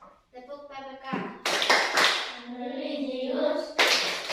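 A primary school class chants the Tepuk PPK character-education cheer, with rhythmic group clapping bursts punctuating the chanted voices, loud and close in a classroom.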